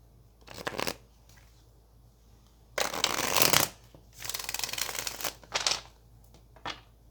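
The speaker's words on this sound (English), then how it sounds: "let's get one more shuffle for Leo" Tarot cards are shuffled up close in several quick riffling bursts, crisp papery flutters separated by short pauses.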